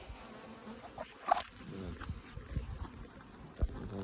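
Bees buzzing around the hives of a bee yard being readied for winter: a steady, close insect hum with a few brief louder swells and no talking.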